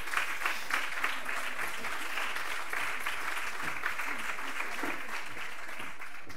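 Audience applause for composer Alejandro Abad at the WE Girona 2025 congress team-building session: a steady, dense wash of many hands clapping, sustained evenly throughout at a moderate level.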